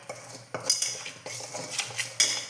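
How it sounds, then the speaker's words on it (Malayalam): A spoon clinks and scrapes against a bowl in quick, uneven strokes, stirring thick semolina batter up close, with no talking. "ഇനി ഇതെല്ലാം കൂടി നന്നായിട്ടൊന്ന് മിക്സ് ചെയ്യാം"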